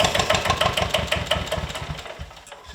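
A lawn mower engine, just pulled out of long grass, sputters and runs in a rough, pulsing rhythm close by, loud at first and fading somewhat toward the end, with no voices.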